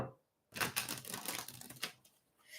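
A deck of tarot cards is shuffled close up, a dense burst of papery riffling and flicking after a short silence, then tapering off.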